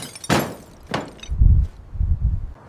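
Broken glass is placed into sealed protective containers during a canal boat restoration: two bright clinking crashes of glass, then three dull, heavy thuds as the containers are handled, with no speech.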